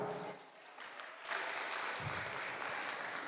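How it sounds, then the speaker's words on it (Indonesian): Audience applause at an academic opening lecture in Mataram, Lombok: steady broadband clapping from a seated crowd that swells after a brief dip and stays fairly distant and continuous. "kita aplaus semua"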